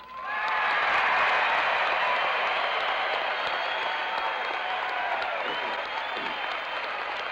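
Sustained audience applause for a reverend of Northside Baptist Church calling for a school boycott, a loud, dense wash of clapping that rises quickly and holds steady throughout, slowly thinning toward the end.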